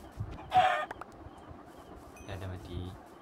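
Chickens in the video game Minecraft give a few short clucks, with a brief louder burst early and softer clucking toward the end over a low background bed.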